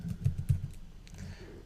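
Close, quiet clicking of a computer keyboard in a short burst of several quick keystrokes, then a pause and a few softer taps.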